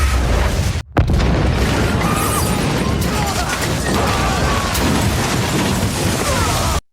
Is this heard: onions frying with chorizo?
no